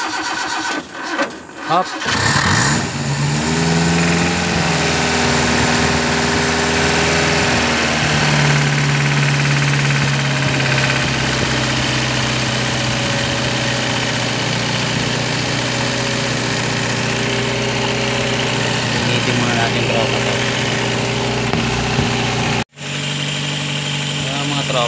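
An engine cranks and catches after a clogged fuel filter repair, then settles into a steady, loud idle with a constant hum that runs to the end, where it briefly cuts. People talk near the start.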